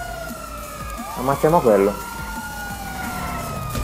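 Police sirens sound in GTA 5 Online, a wailing tone sweeping through the scene while a player's voice speaks briefly over a sharp burst of game noise.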